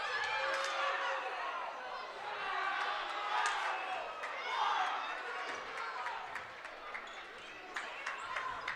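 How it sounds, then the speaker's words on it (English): A crowd at a junior varsity boys basketball game reacts to a referee's call with a broad murmur and scattered shouts, under steady commentary and occasional squeaks and thuds from the court. "Crowd did not like that call."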